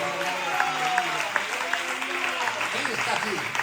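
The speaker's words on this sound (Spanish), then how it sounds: "¿Cuánto le pueden dar un fuerte aplauso a él?" A church congregation applauds, a dense, even wash of clapping held steadily throughout at moderate level, with voices mixed in.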